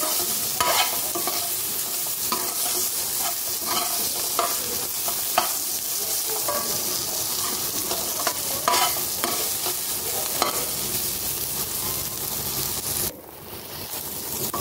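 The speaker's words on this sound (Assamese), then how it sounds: "এইফালে এয়া মোৰ পিঁয়াজখিনি ভজা হৈ গ'ল।" Chopped onions fry in fish oil in a pan while being stirred, giving a loud, continuous close sizzle with scraping stir strokes throughout and a brief dip near the end, with no voices.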